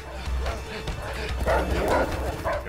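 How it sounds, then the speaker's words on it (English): Doberman dogs bark and yip in the video game A Way Out, several short woofs in quick succession at moderate loudness, mixed with game background noise. "They're dogs. They're Dobermans,"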